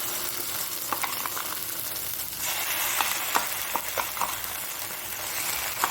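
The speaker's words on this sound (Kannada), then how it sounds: "ಸೊ ಇದು ಕ್ರ್ಯಾಬ್ ಮಸಾಲ ಫ್ರೈ ಮಾಡ್ತಿದ್ದೇನೆ ನಾನು." Mangalorean crab masala fries in a pan, a steady soft sizzle with occasional crackles and stirring scrapes, fairly quiet and close, with no talking.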